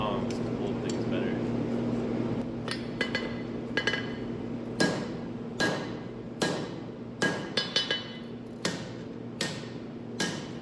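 Hammer blows strike a honesuki knife tang on an anvil in a shop, the blade bouncing against the anvil corner; a dozen or so sharp ringing clanks come at an uneven pace over a steady background hum.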